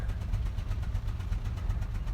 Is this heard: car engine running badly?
yes